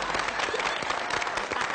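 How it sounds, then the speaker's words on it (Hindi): A comedy show audience bursts into loud, dense applause, continuous clapping filling the room from start to finish. "इसके लिए जोरदार तालियां देखिए।"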